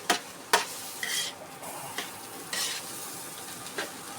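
Egg and bitter gourd (ampalaya) fry in a pan for fried rice while a utensil stirs, giving a soft sizzle punctuated by about eight sharp scraping clinks at an irregular, fairly quick rhythm.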